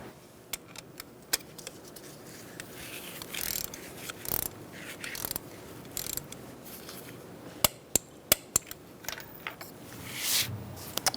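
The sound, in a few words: torque wrench tightening bolt on Hyundai Accent engine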